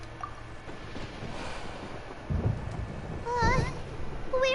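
Deep thunder rumbles roll through a stormy scene in the video game Genshin Impact, two heavier low surges arriving midway and near the end over a steady windy backdrop with faint tonal chimes.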